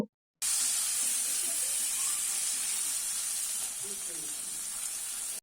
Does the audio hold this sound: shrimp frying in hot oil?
yes